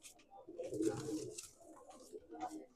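Gole Punjabi Madrasi pigeons cooing softly and close by, giving low, throaty rolling coos in a short series, with faint rustling in between.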